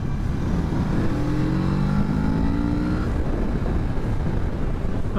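A 2022 Kawasaki Z650 RS parallel-twin motorcycle accelerating, its engine note climbing through rising tones over heavy wind rush, loud and close throughout.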